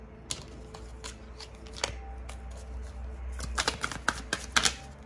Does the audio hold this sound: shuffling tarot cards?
yes